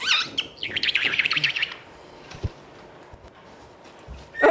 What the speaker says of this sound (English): Come on, birds.